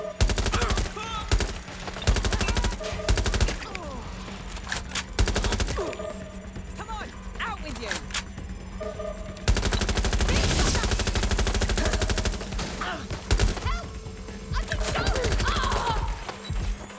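Rapid bursts of automatic gunfire in the video game Watch Dogs: Legion, loud and repeated in dense volleys across the whole stretch, with a voice briefly calling out between shots.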